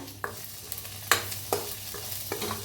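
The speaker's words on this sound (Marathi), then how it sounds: "हलवून घेऊया।" Spice masala with turmeric, cumin powder, asafoetida and Kolhapuri red chilli powder frying in oil, stirred in a pan with several sharp spoon scrapes over a steady low sizzle.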